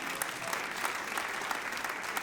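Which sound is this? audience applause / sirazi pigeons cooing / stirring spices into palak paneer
audience applause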